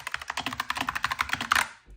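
Quick typing on a Razer Huntsman V3 Pro Mini mechanical keyboard, a close, crisp run of about twenty snappy keystrokes in an even rhythm with no talking.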